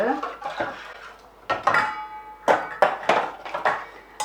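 Clattering utensil strikes and scraping against a dish as tofu dressing with apple cider vinegar, sesame oil and liquid aminos is mixed, a series of close, sharp clinks in irregular bursts with no talk.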